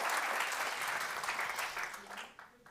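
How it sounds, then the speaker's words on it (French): A conference audience applauds steadily for about two seconds, then the clapping thins out and fades toward the end. "On peut l'applaudir, Lucie, sur cette expérience intéressante."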